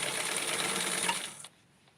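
A sewing machine stitching cotton fabric whirs steadily and close for over a second, then winds down and stops, leaving near silence.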